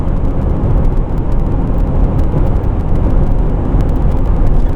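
A 2012 Volvo V70 D3 diesel with a D5204T3 engine, just repaired for a boost leak, revs hard at full throttle around 3000 RPM, a loud, steady, unbroken roar held at constant pitch throughout.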